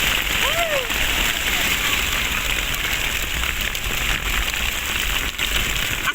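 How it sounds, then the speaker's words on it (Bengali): Heavy rain pours down on a flooded street in Uttara, Dhaka, making a dense, constant hiss of drops that stays loud and even from start to finish. "অনেক বৃষ্টি হইতেছে, মজা লাগতেছে।"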